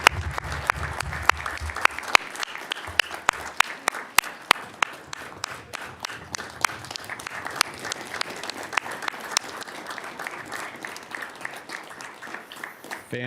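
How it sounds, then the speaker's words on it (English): Applause from a public meeting audience welcoming two new members of a fire protection district's Wildfire and Fuels Division, steady dense clapping for several seconds after a brief spoken introduction. "Round of applause."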